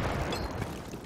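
Frag grenade blast in the tactical shooter Insurgency, a dense, rumbling low-end burst filling about a second of gameplay audio, loud and sustained with no clear separate onset, amid battlefield noise.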